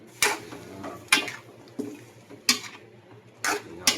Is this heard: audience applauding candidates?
no